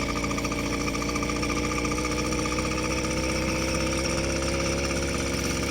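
A two-stroke motorized bike engine idles outdoors in winter with a loud, close, continuous buzzing rattle and fast, even pulsing that never stops, with no talking.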